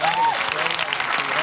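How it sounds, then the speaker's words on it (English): A crowd applauding a speech on a nationwide school reform plan, steady broadband clapping filling the short span at a fairly loud, even level. "The crowd applauded that too."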